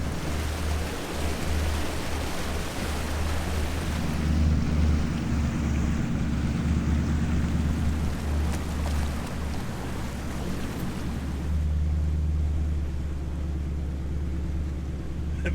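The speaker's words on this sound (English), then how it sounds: "This is the main sort of 500 meter long or so river crossing where you run down the middle of the river at Kalgan Pool." A 4WD drives down the middle of a long river crossing at Kalgan Pool in the Pilbara, Australia, with a steady loud rush of water and engine rumble continuing throughout.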